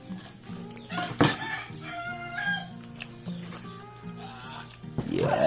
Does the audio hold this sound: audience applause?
no